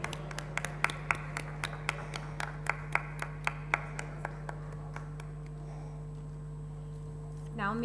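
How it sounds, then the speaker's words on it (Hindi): Scattered applause at a prize distribution ceremony, a handful of distinct claps in a loose, fairly even rhythm over a constant electrical hum, fading out after several seconds. "हम जोरदार तालियों के साथ अपने सभी विशिष्ट अतिथियों का स्वागत करते हैं।"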